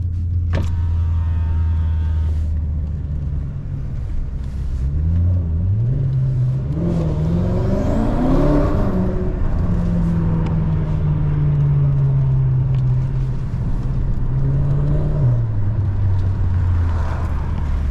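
A tuned 700 whp BMW M6 with a twin-turbo V8 drones loudly while driving, its exhaust note climbing and falling through gear changes in a continuous, close rumble.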